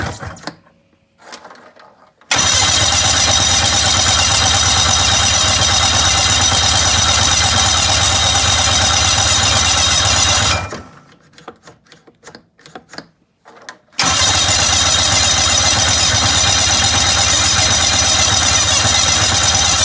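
A 1995 snowmobile engine idling loudly and close, a steady buzzing two-stroke drone that cuts out twice into near silence before restarting and running evenly again.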